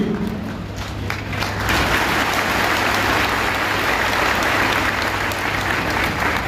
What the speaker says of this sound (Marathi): अरे मालेगावचे टाळ्या एवढ्या कमी